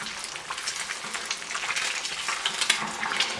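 Eggs frying in a pan give off a bright, crackling sizzle that holds steady and close throughout, with small pops scattered through it and a slightly louder spit at the very end.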